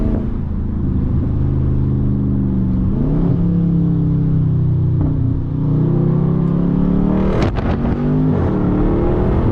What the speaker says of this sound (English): So downshift. Here, let's crack the window so you guys can hear that.